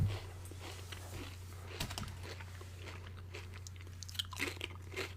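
Close chewing of classic yellow-bag Lay's potato chips, repeated crisp crunches and bites at an uneven pace over a constant low hum, no voices.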